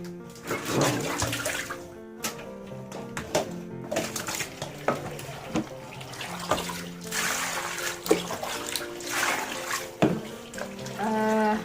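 Running water splashes steadily while squid is rinsed and cleaned by hand, partly masked by louder background music throughout.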